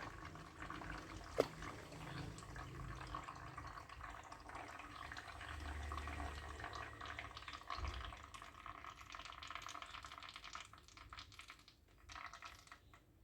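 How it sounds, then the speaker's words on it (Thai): Water drains from an air conditioner, running and splashing steadily for several seconds at a moderate level, with a brief sharp click near the start and no talking. "น้ำไหลเราก็ปล่อยก่อนนะครับ"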